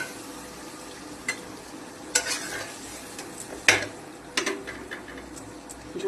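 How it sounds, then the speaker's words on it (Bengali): Water poured into a sizzling curry in a pan, a soft crackling hiss broken by a few sharp clinks of a spoon against the pan. "এবার আমি সামান্য জল দিয়ে দেবো।"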